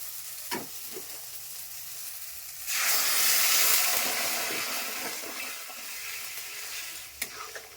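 Hot water poured into frying masala in a pan, a few faint stirring taps, then a sudden loud hissing surge that slowly settles into a steady sizzle, with a sharp knock near the end.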